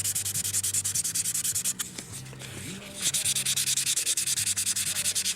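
Steady rhythmic sanding strokes rasp back and forth up close over aircraft fabric, with a brief pause in the middle before the rubbing resumes.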